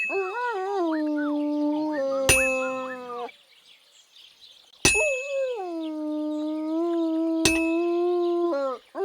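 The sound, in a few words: dog howling and whimpering in Kingdom Come: Deliverance 2 video game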